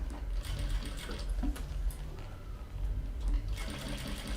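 A sewing machine stitches bias binding onto a men's bag, giving a steady, quiet mechanical hum with fine rhythmic ticking throughout.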